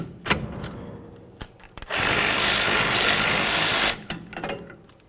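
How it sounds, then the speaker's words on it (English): A power tool whirs in one sustained burst of about two seconds, removing brake caliper bolts on a 1999-2007 Chevy Silverado rear brake, with soft clicks and clanks before and after. "The next thing that we need to do is remove our caliper bolts."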